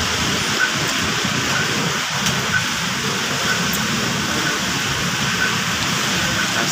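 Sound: rain falling outside

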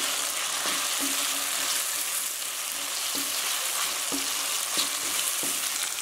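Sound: capsicum pieces frying in a pan for corn manchurian

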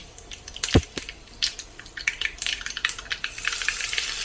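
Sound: hot tadka tempering sizzling poured on chutney

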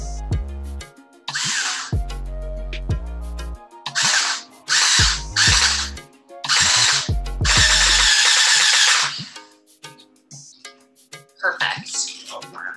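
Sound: power drill screwing screws into color guard rifle

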